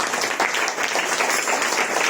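A church congregation applauds during a Telugu Christian sermon, a dense, loud, continuous wash of many hands clapping together.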